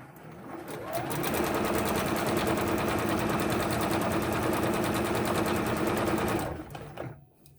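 A sewing machine stitches a fabric mask in needle-down mode, its needle pounding in a fast, steady rhythm for about five seconds, loud and close, then slowing and stopping near the end.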